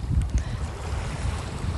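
Sea waves wash in a steady, continuous roar of surf with gusty wind noise over it, fairly loud and unbroken, with no voices.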